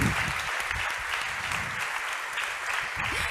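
A studio audience gives sustained, dense applause to welcome a guest writer onto the stage of a late-night talk show, loud and continuous throughout with no break.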